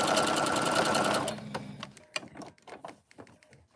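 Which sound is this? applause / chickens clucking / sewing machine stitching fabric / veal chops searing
sewing machine stitching fabric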